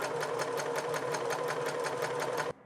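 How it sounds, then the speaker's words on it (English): Sewing machine running a long gathering stitch along fabric, a fast even rhythmic whir of needle strokes close by, stopping abruptly at the end. "I just go ahead and sew"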